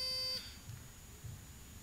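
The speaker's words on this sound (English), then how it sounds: "we got to test the buzzers" A quiz bowl buzzer sounds once as it is tested, a short steady electronic tone at the start that cuts off, followed by quiet room noise.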